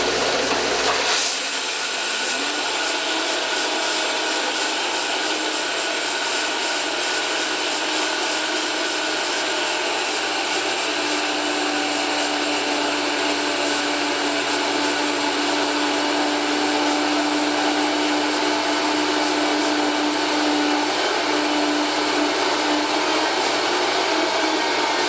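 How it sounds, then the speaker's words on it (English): An electric grain mill grinding wheat berries into flour for sourdough bread gives a loud, steady whine and roar that runs unbroken for about twenty-five seconds after a brief start, with no talk over it. "And we're gonna grind this up. Now this is gonna be loud."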